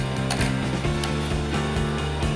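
Back cover of a twin-tub washing machine being opened, giving a loud, close run of rapid ratcheting mechanical clicks in a steady rhythm, with no talking.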